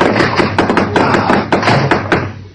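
Knocking on a door as a sound effect in a 1950 radio drama, a run of sharp, close raps in quick uneven bursts, loud and alone with no talk over them.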